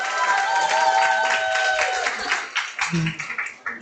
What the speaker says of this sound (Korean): 이소민 사장님 48kg 되시라고 큰 박수 부탁드리겠습니다